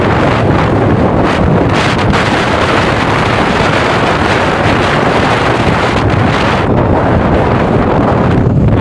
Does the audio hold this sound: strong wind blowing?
yes